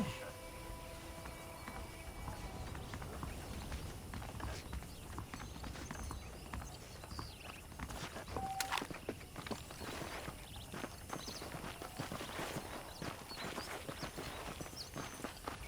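Horse hooves clip-clop steadily in Red Dead Redemption, a continuous walking rhythm across the whole stretch, with game voices talking over it and a faint tonal sound partway through.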